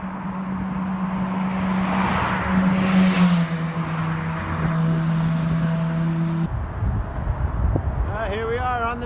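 Loud road traffic and wind roar steadily around a moving bicycle crossing the Richmond Bridge, with a low engine tone and a voice speaking briefly near the end.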